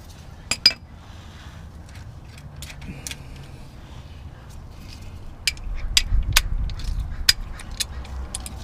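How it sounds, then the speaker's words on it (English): Sharp metallic clinks of tools being handled while a torque wrench is taken out during car interior work, scattered separate chinks with a low rummaging rumble, close and fairly quiet. "So I'm gonna need to get the torque wrench out."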